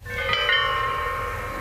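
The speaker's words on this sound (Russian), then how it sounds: "26 колоколов звонят каждые 30 секунд." Memorial bells at the Khatyn memorial complex ring out, one clear strike followed by a sustained, slowly fading metallic tone with rich overtones, fairly loud and alone.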